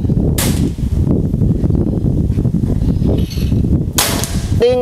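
A Bocap FX Mahameru full-CNC air rifle firing Hercules pellets outdoors lets off two sharp, loud cracks a few seconds apart over a constant roar of strong wind.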